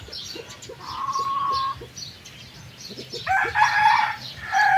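A rooster among Black Australorp egg-laying chickens crows twice outdoors, a shorter call followed by a longer, louder one, with faint clucking and farmyard ambience between.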